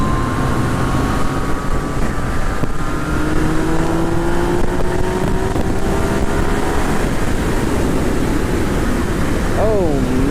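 Yamaha FZ09 (MT-09) motorcycle on a test ride, engine droning steadily with rising pitch as it accelerates through gears, with constant wind rush throughout and a quick rev near the end.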